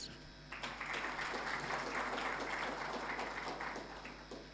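Audience at an International Anti-Corruption Day event applauding a newly introduced commission chief, a sustained, even burst of clapping heard at moderate distance, faint overall.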